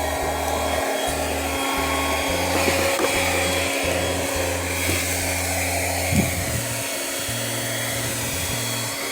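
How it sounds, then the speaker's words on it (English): A small electric water pump motor used for garden irrigation, drawing water from a lake, runs with a continuous droning hum and a rhythmic pulsing throb underneath. It is steady and close, with no talking. "it goes all the way to that little motor over there. It's gonna be a little noisy because I have it on"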